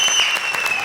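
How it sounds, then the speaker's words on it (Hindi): A comedy show's studio audience breaks into a brief, dense burst of clapping, loud and close, lasting under a second. "इस बात पे दे ताली"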